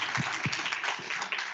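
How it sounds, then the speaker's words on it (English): Audience applause at the opening of a Data Days conference event, a dense steady wash of many hands clapping close and loud throughout, with no talk over it. "so round of applause"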